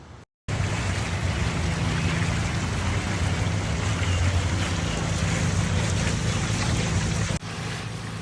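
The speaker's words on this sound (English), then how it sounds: "look at that beautiful sheet of water going into the spa" A backyard pool waterfall runs in reverse while the new pool fills, a sheet of water spilling into the spa. Its steady, close rushing wash carries on unbroken for several seconds and then cuts off near the end.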